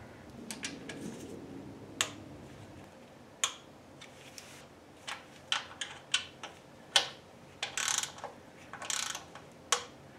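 A torque wrench tightening a bolt to 10 foot-pounds while test fitting a Vintage Air front runner on a vintage car, giving a series of sharp, close ratcheting clicks in irregular bursts against a quiet background.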